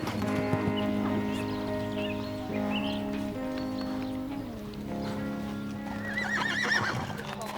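Horses whinny several times over a steady run of clip-clopping hooves, with a high bird-like call near the end and no talking.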